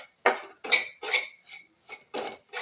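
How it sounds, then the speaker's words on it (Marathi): Semolina being dry-roasted in a pan for tiranga modak, with seven sharp metallic scrapes of a spoon against the pan in a steady, uneven rhythm, close and clear with short silences between strokes. "शंभर ग्राम जे रवा घेतलेला आहे तो आपण चांगला भाजून घेऊया"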